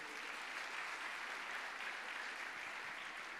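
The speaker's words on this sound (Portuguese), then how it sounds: "Dê uma salva de palmas ao Senhor." A church congregation claps together in an even, continuous wash of applause, faint and distant, holding steady for a few seconds without a break.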